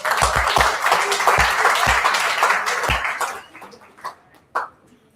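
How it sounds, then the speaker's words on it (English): Loud audience applause fills a hall during a university orientation program as a guest speaker is welcomed, with dense steady clapping that fades out after about three seconds into a few scattered claps. "Please welcome Dr. Ajay with a round of applause"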